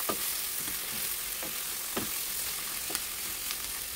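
Beef sizzles steadily in a pan for a Filipino menudo stew while it is stirred, with a dense frying crackle and soft scraping strokes roughly every half second, close and without speech.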